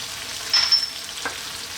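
Roasted cashew nuts drop into a frying chicken curry, making a brief close sizzle and stir with a soft second clatter.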